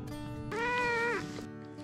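A house cat gives a single drawn-out meow, close and clear, rising then falling over about a second above a faint background hum.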